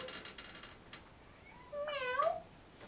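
A house cat gives a single rising meow near the end, after soft tapping noises and a quiet room.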